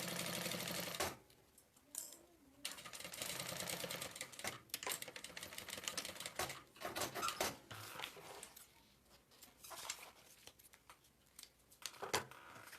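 Domestic sewing machine stitching along a zipper edge of fabric, a fast rapid mechanical chatter in close bursts with short pauses between runs, quiet and with no voices.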